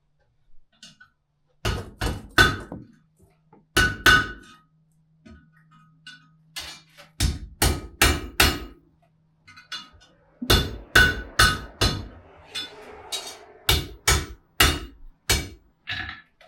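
A blacksmith's hammer rings on a forge-welded iron loop at a 19th-century historic village, sharp metallic strikes falling in quick clusters with short pauses between them.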